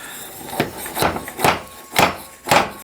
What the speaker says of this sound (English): grab your fork seal driver and hammer it home